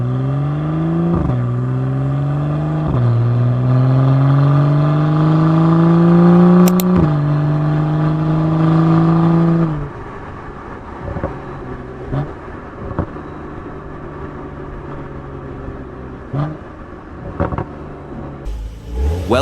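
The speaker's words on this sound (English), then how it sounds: "roar of the BMW e82 135i breaks the serene silence as it cruises down the highway" A BMW E82 135i drives along a highway at night, its engine holding a steady loud drone that climbs in pitch through gears, then drops to a quieter cruising rumble with occasional clicks.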